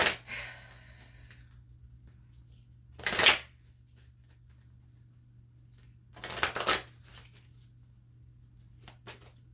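Oracle cards being shuffled in three separate bursts, each a crisp riffling flutter lasting under a second, with quiet pauses between and a low steady hum underneath; no one speaks.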